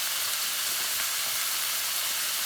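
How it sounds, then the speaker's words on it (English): Vegetables for a sweet and sour veggie stir fry being stirred and fried in a pan, giving a steady, even sizzling hiss that carries on without break. "just enjoy the frying noises"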